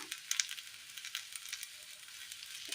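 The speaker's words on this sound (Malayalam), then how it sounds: "വെളിച്ചെണ്ണ ഒഴിച്ചു കൊടുക്കാം." Coconut oil is poured into a hot cooking pan with tomatoes pushed to one side, setting off a light crackling sizzle with scattered pops, close but quiet, no speech.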